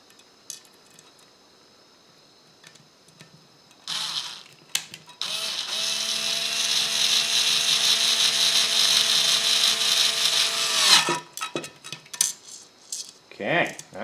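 A power drill bores into a plastic base plate for a ZD Racing Pirates 3 RC car, one steady whining run of about six seconds with fainter clicks and handling noise before and after.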